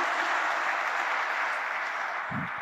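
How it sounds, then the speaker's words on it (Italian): Sustained audience applause at a presentation of the new Porta Elisa stadium, a dense, steady wash of clapping that continues evenly throughout. "Un applauso."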